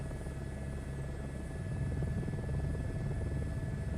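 Steady droning aircraft engine at takeoff in Microsoft Flight Simulator 2024, a continuous low rumble with a faint high whine, holding level and loud throughout without any voices.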